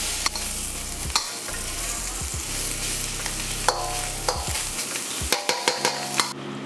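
Chinese sausages stir-frying in a hot wok, a loud steady sizzle broken by sharp metal clanks of the spatula against the wok, close, with a cluster of quick scrapes near the end.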